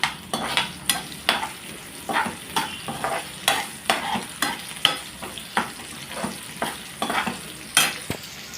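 Onions and curry leaves sauté in a pan for sambar, with a steady soft sizzle broken by regular scraping stirs, close up and with no talk.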